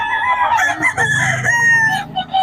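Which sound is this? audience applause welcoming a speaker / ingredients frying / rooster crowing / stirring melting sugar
rooster crowing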